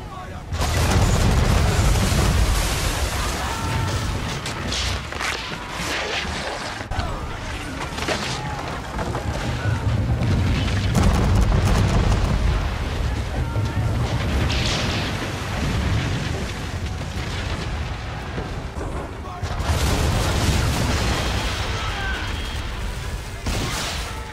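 Naval cannon fire in the video game Assassin's Creed III, with repeated heavy booms and rumbling blasts over a dense, loud battle din, and a voice talking over much of it.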